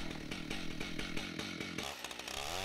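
A chainsaw mills a log along the grain for raised garden beds, throwing off long ribbon-like shavings. Its engine whines loud and close with a fast rhythmic pulsing, then shifts in pitch near the end. No voices.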